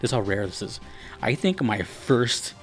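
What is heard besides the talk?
None of the usual background noises is heard.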